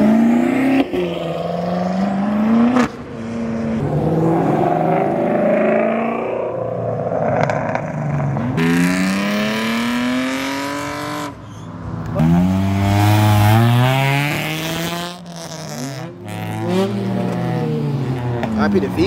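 A Honda car with VTEC revs hard at a Cars & Coffee meet in Morrisville, North Carolina, its engine climbing loud and rising in pitch in repeated pulls, close by and dominating, with people talking faintly underneath.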